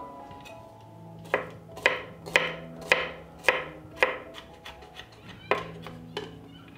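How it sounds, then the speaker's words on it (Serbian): Knife chopping three garlic cloves on a cutting board: a run of sharp, evenly spaced close knocks, about ten strokes with a short pause before the last few, with no talking. "Nakon luka iseckaću i 3 češnja belog luka."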